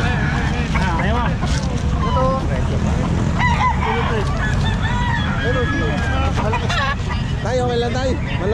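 Roosters cluck and crow in short bursts over a loud, constant crowd murmur with people talking nearby at a pet market in Calumpit.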